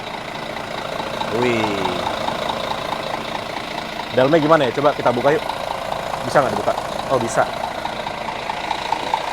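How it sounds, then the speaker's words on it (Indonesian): A Mercedes-Benz 2542 bus engine, new, idles steadily in a new double-decker bus with a smooth, even hum, while people talk over it throughout. "mesin 2542 kalau masih baru tuh suaranya adem banget deh"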